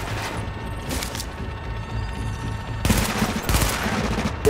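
Rapid automatic gunfire from The Division video game, dense fusillade bursts in two stretches separated by a quieter lull.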